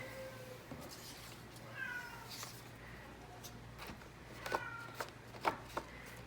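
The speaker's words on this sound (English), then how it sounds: "I have an unhappy cat." An unhappy cat meows repeatedly in the background, faint and somewhat distant, several short cries over steady room hum and soft paper rustling.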